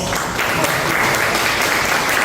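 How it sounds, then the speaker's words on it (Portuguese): Loud, dense applause from an audience at an autism spectrum disorder awareness meeting, a steady continuous wash of clapping close by, filling the whole moment. "Então eu queria pedir para vocês uma salva de palmas."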